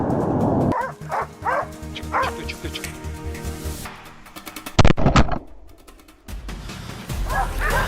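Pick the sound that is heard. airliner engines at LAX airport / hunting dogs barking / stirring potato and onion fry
hunting dogs barking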